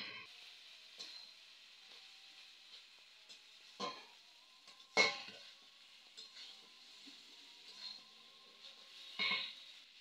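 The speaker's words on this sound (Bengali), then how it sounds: "আমার মোচাগুলো ভালো করে কষানো হয়ে গিয়েছে" Banana flower cooks with shrimp, onion and potato in a pan over lowered heat, a faint quiet sizzle broken by a few sharp scraping stirs and clinks spaced seconds apart.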